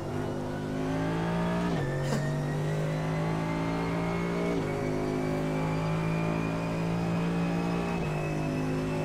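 GT3 race cars at a race start at Interlagos in iRacing: a loud, sustained engine drone climbs in pitch, then drops briefly at each upshift every few seconds as the cars accelerate.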